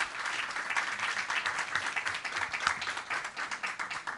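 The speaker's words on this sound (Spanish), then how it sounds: "Yo pido un aplauso para ellos." Audience applause for panelists at a science café talk on multidrug-resistant hospital bacteria, a steady, even round of many people clapping throughout, moderately loud with no voices.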